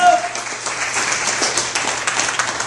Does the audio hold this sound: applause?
yes